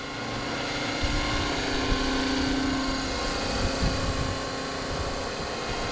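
A 500-size radio-controlled UH-72 Lakota model helicopter flies nearby, its rotors producing a steady, close buzzing whir with a fast blade chop throughout.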